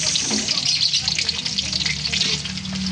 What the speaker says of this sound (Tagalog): Ang una ko pong ginagawa, ipiprito ko muna itong mga sibuyas.